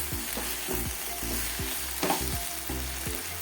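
Okra (bhindi) sizzling as it is stir-fried in a little oil with turmeric powder, a steady frying hiss broken by regular scrapes and stirs of the spatula every half second or so, with no talk.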